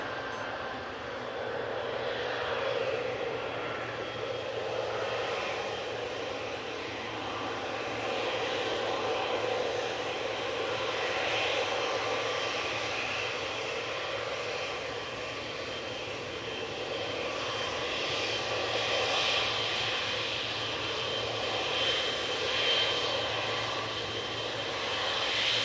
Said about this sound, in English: Etihad 777 now coming on